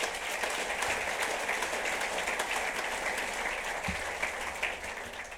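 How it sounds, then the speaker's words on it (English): A crowd claps steadily and fairly loudly at a city State of the City address in Torrance, California, a dense continuous applause with no voices on top. "How about a round of applause for Danny and"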